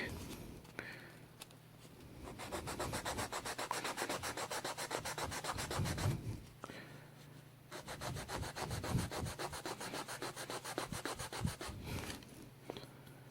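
Hand sanding of a watch lug area to narrow an odd lug width, a steady rhythmic back-and-forth rubbing in long bursts with brief pauses, close and fairly loud, with occasional faint speech.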